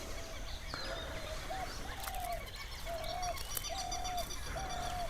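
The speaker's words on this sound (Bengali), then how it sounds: "শুধু পাখির আওয়াজ, গোটা রাত বিভিন্ন পাখির আওয়াজ পেয়েছি।" Birds call beside the Murti river at dawn in the Dooars, a steady string of clear, repeated whistled notes with cooing pigeons or doves over a constant wash of outdoor background noise.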